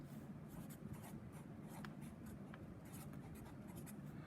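A pen scratches steadily across paper close by, faint continuous writing strokes with small ticks while working a precalculus problem, no talk.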